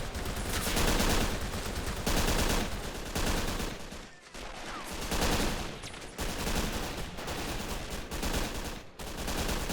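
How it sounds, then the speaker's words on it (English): Machine gun fire in the war strategy game Men of War: Assault Squad, with long, loud, continuous bursts of rapid shots layered over other gunfire, rolling almost without pause and breaking off only briefly. "And the machine gun actually gets something to do."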